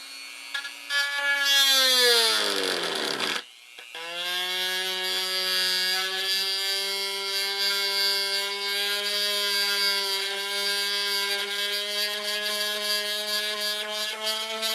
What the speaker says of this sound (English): It's going to require a little bit of Dremel work.